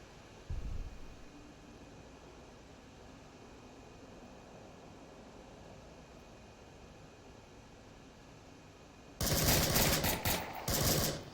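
Gunfire in the VR shooter Onward during a competitive VRML match: a sharp thump near the start, then a dense, loud burst of rapid automatic fire near the end over a steady background hiss.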